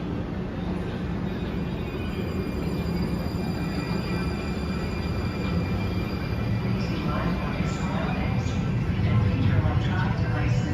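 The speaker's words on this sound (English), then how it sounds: "I'm gonna watch this train depart." A Lynx light rail train pulls away from 7th Street station with a steady, broad rumble and hum that stays even throughout, with no voices over it.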